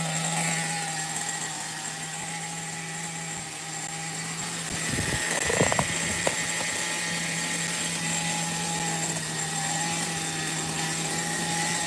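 A Megatech Nitro Razor nitro RC car with a fat header runs steadily at a high, buzzing idle. The whine holds for the whole stretch, briefly rising to a louder, rougher burst about halfway through, with no talking.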